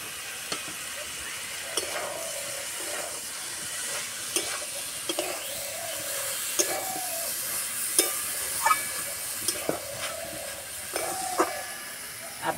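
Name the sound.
ridge gourd frying in pan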